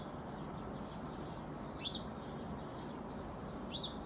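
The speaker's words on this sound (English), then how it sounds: "The birds are chirping." Small birds chirp outdoors at a low level, with two brief bright tweets standing out over a steady background hiss.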